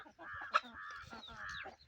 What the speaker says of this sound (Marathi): हे जे आपले गावठी पक्षी आहेत